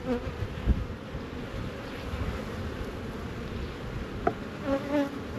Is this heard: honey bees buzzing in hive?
yes